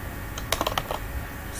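A computer keyboard clacks in a quick cluster of several keystrokes while HTML heading tags are being typed, crisp and close with quiet room tone before and after.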